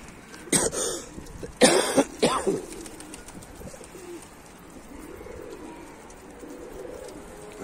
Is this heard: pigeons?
yes